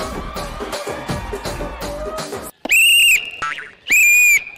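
A referee-style whistle blown during a comic stage game on a Telugu TV show: two loud, sustained shrill blasts, each about half a second, following a stretch of lively crowd noise and voices.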